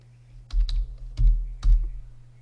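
Typing a label on a computer keyboard in a spreadsheet: three short bursts of clustered key clicks, close and distinct, over a quiet background hum.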